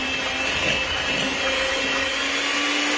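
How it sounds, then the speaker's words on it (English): An electric hand mixer beats butter with brown sugar in a mixing bowl, its motor whirring at a steady, fairly loud pitch without a break and with no one talking. "I'm going to put a cup and a half of that into my mixing bowl with my butter and juice it with the hand mixer"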